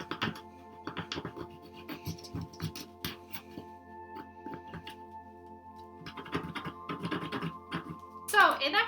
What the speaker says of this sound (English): So I'm gonna rub this really hard over this shape now.